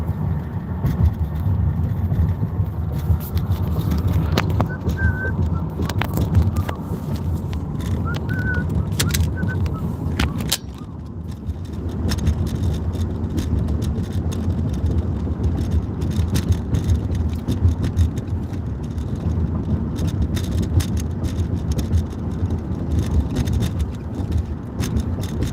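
A car drives along a road in 90-degree summer heat, a steady low engine and tire rumble from inside the cabin, with faint bird chirps outside.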